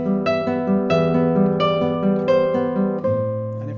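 Classical guitar plays the arpeggio of Romance, a flowing pattern of plucked notes over sustained bass notes, clear and close with no talking.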